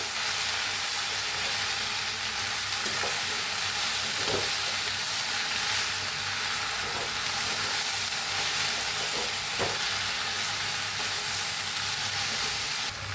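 Loud, continuous sizzling of okra in a hot frying pan with occasional soft scrapes and taps of stirring, no voices.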